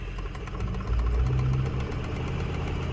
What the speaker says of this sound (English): RPMs, you do wanna raise the RPMs up